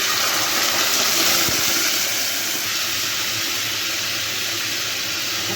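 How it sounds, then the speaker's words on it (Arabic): Half a cup of vinegar pours into hot oil holding fried garlic, and a loud, steady sizzling hiss follows, close and unbroken for several seconds with no talk over it. "هحط قيمة نص كوباية خل"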